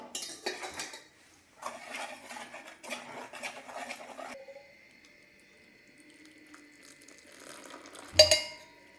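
Jaggery syrup is stirred into paniyaram batter in a metal bowl, with bursts of wet scraping and clinking spoon strokes, then a quieter stretch and a final sharp clank, nearby and without speech.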